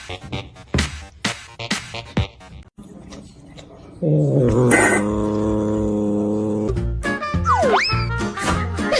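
A cat gives a low, sustained growl lasting a couple of seconds, preceded by scattered clattering knocks and followed by a brief higher squeaky call.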